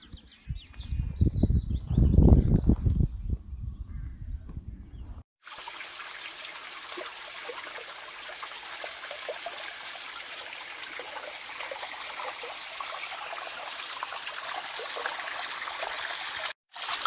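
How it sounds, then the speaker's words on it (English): A small stream trickles and bubbles down a hillside inside a grotto, a steady close burble with birds chirping; a louder stretch with other sound comes first, then the water runs alone. "little stream bubbling down from the hillside"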